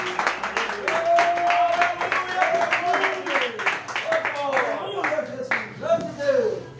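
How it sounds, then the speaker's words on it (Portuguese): A church congregation at a worship service claps steadily for several seconds, with a voice singing or speaking loudly over the clapping throughout. "Palmas para o Senhor Jesus."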